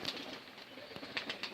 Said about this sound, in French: mes petites tourterelles, elles sont là